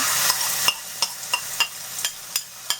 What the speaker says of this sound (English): now I'm going to put the masala